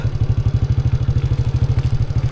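A farm tractor registered in Nakhon Phanom runs close by, its engine a steady low, rapid chugging thump with a clattering mechanical edge, loud and continuous without talk.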